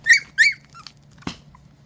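Puppies whine in two high, squeaky cries close by, followed by a softer whimper and a single short thump, with no talking.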